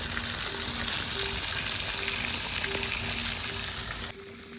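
Fish sizzles and crackles in a small pan over a wood fire, a steady bright frying hiss with faint intermittent tones, loud and close, dropping suddenly quieter near the end.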